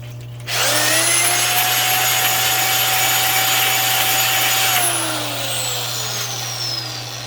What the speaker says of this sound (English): I'm going to go in there with a ball hone